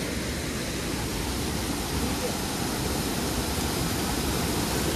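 Jhari Pani waterfall near Mussoorie, a steady broadband roar of falling water filling the whole stretch at an even, constant level with no breaks.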